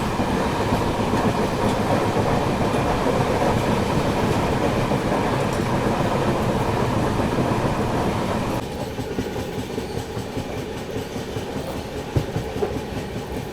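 The AP Express from Visakhapatnam to New Delhi rolls along the rails with a loud, steady rumble and rhythmic clickety-clack of wheels. Partway through it drops to a slightly quieter, rougher running tone.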